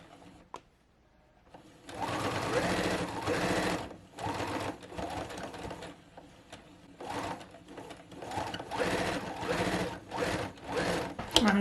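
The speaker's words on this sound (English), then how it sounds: "We're just sewing along the straight flat ends." A sewing machine stitching along the straight flat ends of scrunchie fabric, running in close, loud bursts of rapid mechanical whirring with short stops between runs.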